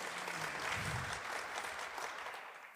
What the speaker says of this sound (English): And yeah, you can applaud that.